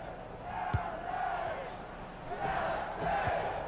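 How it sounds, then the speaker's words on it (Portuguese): A stadium crowd roaring and chanting in support of Galaxy during an EAFC 24 football match, a broad swelling crowd noise in waves, with several dull ball-kick thuds and a commentator talking over it. "A torcida grita. Apoia o Galaxy."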